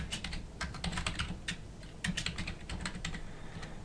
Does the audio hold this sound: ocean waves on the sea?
no